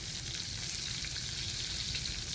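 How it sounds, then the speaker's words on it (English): Cauliflower fries in a wok for vegan khichdi, a dense, even hiss of oil crackling steadily and close throughout, with faint stirring underneath. "So I'm just going to throw in the cauliflower now"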